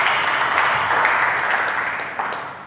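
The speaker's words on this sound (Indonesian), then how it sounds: "Berikan tepuk tangan." A church congregation applauds during a sermon, a steady wash of many hands clapping at moderate loudness that fades slightly toward the end, without talk over it.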